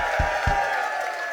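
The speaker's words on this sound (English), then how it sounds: "Big round of applause for them." An audience applauding during a game segment of a comedy variety show, a dense, steady wash of clapping and crowd noise close by, with two low thumps near the start.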